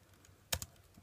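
Two quick keystrokes on a computer keyboard, faint and close, in an otherwise quiet room.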